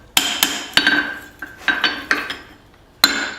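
Hammer blows on hot steel while forge welding a tomahawk: sharp ringing metallic strikes in an uneven series, about nine in all, close and fairly loud with short decaying rings and a pause before a final hit.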